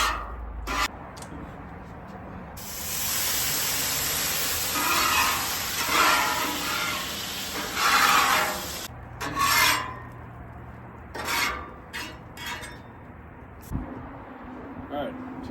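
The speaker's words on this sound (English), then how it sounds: "We get to clean the grill." A flat-top griddle gets scrubbed clean after cooking, with harsh rasping strokes in uneven bursts that swell and fade, up close and fairly loud.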